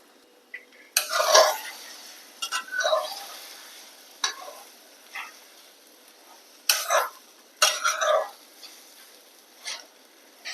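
A spatula jabbing and breaking up egg frying in a pan for egg curry, with sharp bursts of metal-on-pan scraping and clatter separated by pauses over a faint sizzle, no voices.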